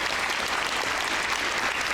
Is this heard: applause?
yes